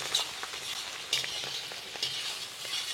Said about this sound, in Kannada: ಸ್ವಲ್ಪ ತೊಳೆದಿಟ್ಕೊಂಡ ತರಕಾರಿ ಇದು ಫ್ರೈ ಆಗುತ್ತೆ